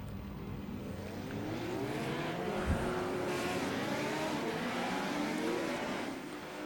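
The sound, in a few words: race cars driving around the track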